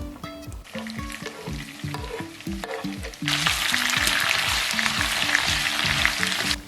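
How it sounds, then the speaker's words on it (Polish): Onion added to browning meat in a pan for plov sets off loud, continuous sizzling and frying that swells suddenly partway through, while a rhythmic stirring or scraping pattern repeats underneath; nobody speaks. "Na mięsie już mamy złotą skórkę, a to znaczy, że możemy dodawać cebulę"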